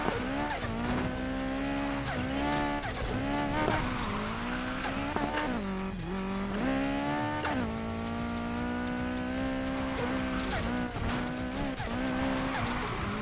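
McLaren 570S Spyder drifting in Need for Speed Heat: a loud, continuous engine roar that rises and falls with throttle and gear changes, with tire squeal woven through the whole run and no pause.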